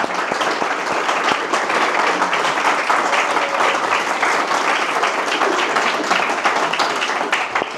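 At the close of a live AI talk event, an indoor audience gives sustained applause, a dense, even clatter of many hands clapping that continues for several seconds without speech.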